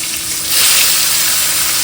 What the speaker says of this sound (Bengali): মাছগুলো কেটে দিয়ে গিয়েছে লবণ হলুদ মাখিয়ে তেলে ছেড়ে দিলাম